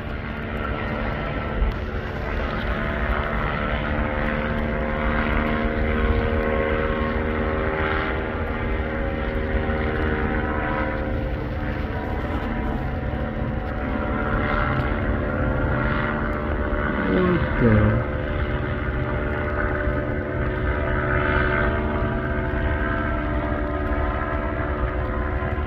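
A low-flying airplane near an airport makes a loud, sustained engine roar that dominates the whole stretch, with a steady drone and shifting tonal hum as it passes overhead.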